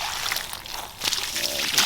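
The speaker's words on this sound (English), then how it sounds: "and then just pour it right in the mound." Water mixed with orange oil poured onto and into a fire ant mound outdoors, a close, steady trickling splash that swells louder partway through.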